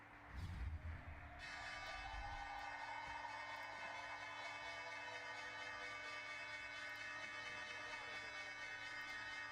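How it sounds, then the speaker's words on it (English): The stock market closing bell rings with a sustained metallic tone after a brief thump, holding steady and ringing on for several seconds, faint and somewhat distant. "Here's your bell."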